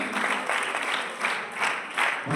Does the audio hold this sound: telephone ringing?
no